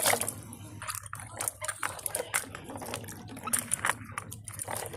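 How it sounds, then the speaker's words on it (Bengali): Small green mangoes are rubbed and splashed in water by hand, giving close, irregular wet sloshes and knocks over a low steady hum. "আমগুলোকে প্রথমে ভালো করে ধুয়ে নেবো"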